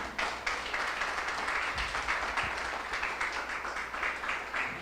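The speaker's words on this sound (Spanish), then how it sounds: "denle un fuerte aplauso a Dios" A church congregation breaks into steady, full applause during a Sunday service, dense clapping from a roomful of people that carries evenly to the end.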